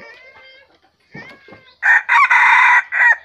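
A young cockerel crows in several loud, close bursts, each a strained, harmonic call, after a few softer clucks and squawks at the start.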